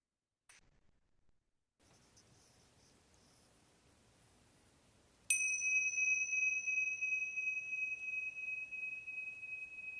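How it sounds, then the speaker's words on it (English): A single meditation bell is struck once and its clear tone rings on, slowly fading over several seconds after a near-silent opening. "We'll start and end the practice with a bell and allow that sound to be your invitation to get settled"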